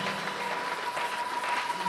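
A church congregation at a Sunday worship service applauds the Lord, with sustained fast clapping from many hands filling the space throughout.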